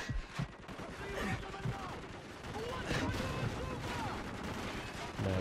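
Gunfire in the video game Call of Duty 4: Modern Warfare comes as quiet bursts of shots and rattling automatic fire, with voices talking over it the whole time.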